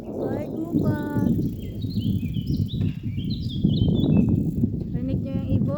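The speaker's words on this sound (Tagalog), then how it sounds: "Maawit ang mga ibon." Birds chirp and sing in high, repeated phrases while a person talks steadily over them in the foreground.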